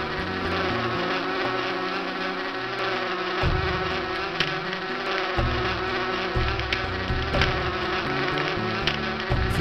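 Bees buzz steadily in a German-language PC playthrough of the game Erben der Erde, a continuous close droning hum with shifting pitch that runs unbroken throughout, with no voices over it.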